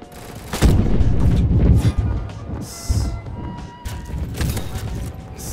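Several sharp gunshots from a Call of Duty–style Roblox game, with loud bursts and rumbling echoes spread across the clip, some quick, some spaced apart.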